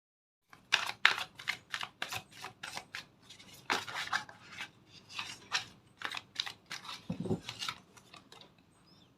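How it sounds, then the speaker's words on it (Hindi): Tarot cards are shuffled by hand close to the listener, giving a quick series of crisp riffling slaps and rustles in uneven bursts, with no voices. "देखो आपके सामने मैंने शफल किए कार्ड्स"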